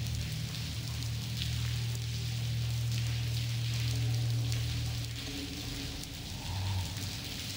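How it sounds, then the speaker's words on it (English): Steady rainfall hiss in a PC video game, with a low droning hum underneath, continuous and moderately faint. "let's get out of this rain"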